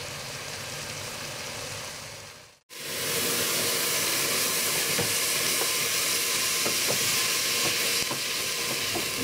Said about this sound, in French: Vous les laissez mijoter. Vous les tournez régulièrement pour pas qu'ils attachent.